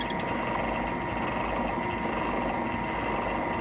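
A steady, continuous mechanical whir of a drill with a sharp bit boring into a soft wooden pipe at constant speed, close and fairly loud, with a broad buzzing hum and no talking.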